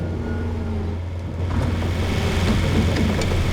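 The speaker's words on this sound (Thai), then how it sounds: "เสียงริบแฮมันจะแปลกๆกันนิดนึงนะครับผู้ชม" A steady, loud excavator engine drone in a construction simulator game that rumbles low and revs up partway through, continuous with no voices.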